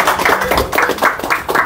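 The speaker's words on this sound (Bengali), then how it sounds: "তো সবাই হাততালি দিবেন এই নতুন শোরুম উদ্বোধন উপলক্ষে" A small group claps at a new showroom's opening, a short loud burst of a few uneven rhythmic claps close by, with bits of voice mixed in.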